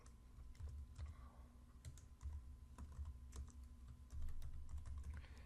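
Rapid keystrokes on a computer keyboard while entering a text value into an Excel formula, a steady patter of clicks with occasional louder taps, close up over a faint hum, no voices.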